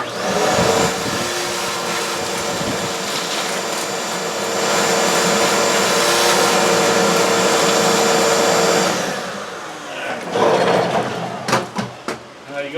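A vacuum cleaner roars steadily for several seconds, its pitch shifting slightly, then winds down, followed by a few clunks and knocks.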